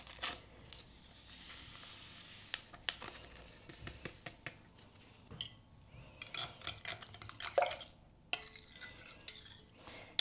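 Spoon stirring yeast in a bowl to dissolve it for homemade bread, soft irregular clinks and scrapes close by but faint, with light rustling between them.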